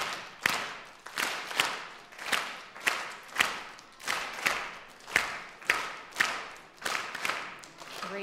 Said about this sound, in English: and then we'll clap it